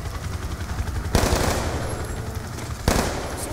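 Two sharp bursts of gunfire in the video game Call of Duty: Black Ops 2 crack loudly over a low rumbling background, the first sustained and the second a short blast near the end.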